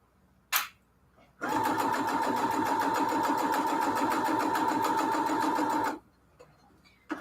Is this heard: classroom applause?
no